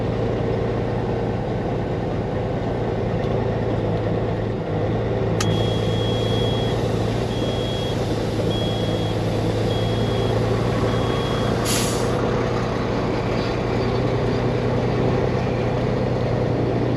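A truck idles loudly close by with a steady engine drone, while evenly spaced reversing beeps sound for several seconds and a sharp air-brake hiss cuts in near the end.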